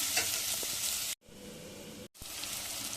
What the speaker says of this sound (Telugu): ఇప్పుడు చేపలు వేసేసుకుందాం